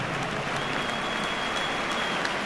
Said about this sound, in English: Let's have a nice warm round of applause for our There's Brian O'Driscoll.